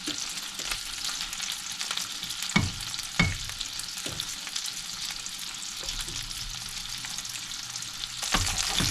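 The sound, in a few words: salmon fillets searing in a pan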